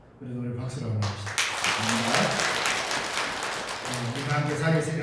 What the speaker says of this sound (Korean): 그래서 우리 박수로 한번 합시다.